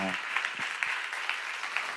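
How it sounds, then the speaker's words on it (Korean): Church congregation at a Korean sermon seminar claps in a brief, moderate burst of applause, with separate hand claps audible against a quiet room. "박수하세요."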